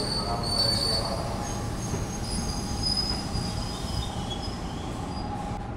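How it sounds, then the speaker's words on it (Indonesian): A commuter train rolls into a station track at Jatinegara, its wheels squealing in a continuous high whine over a steady low rumble of rail cars, loud and close throughout. "Dan ini jalur 5 masuk komuter lain dari arah Bekasi tujuan Kampung Bandan via Pasar Senen"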